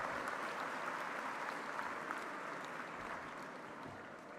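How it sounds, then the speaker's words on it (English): A crowd claps at a university graduation ceremony in a dense, steady wash of applause that holds evenly throughout before easing slightly at the end. "let's give a round of applause."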